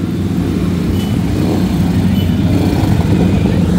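Motorcycles arriving and rolling in to park at a biker ride event in El Salvador, a steady loud low engine rumble filling the whole stretch without pause.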